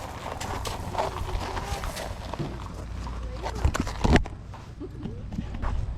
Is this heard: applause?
no